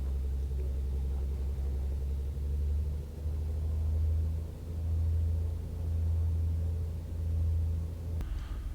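A Piper Cub's engine taxiing at a backcountry airstrip, a loud steady low rumble that swells and eases in slow waves, close by, then cuts off abruptly near the end.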